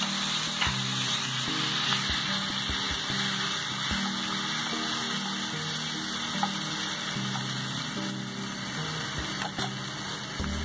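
Chopped vegetables hit a hot pan with turmeric and sizzle steadily up close, a constant hissing fry with occasional soft pops and clinks.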